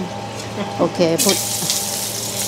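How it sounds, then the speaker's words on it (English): Water is poured into a very hot wok over a high gas flame while mixed vegetables stir-fry with garlic. It starts as a short burst of splashing and sizzling and gives way to a steady hiss, with a person speaking briefly. "You put this one and you add the water."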